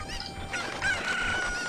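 A cucco clucks and crows in Zelda: Ocarina of Time, a brief chicken call ringing out clearly over soft game ambience.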